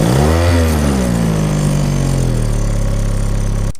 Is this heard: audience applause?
no